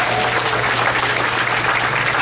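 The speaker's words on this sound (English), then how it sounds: "Round of applause." A room full of people claps in a dense, steady round of applause that stays loud and unbroken for a couple of seconds.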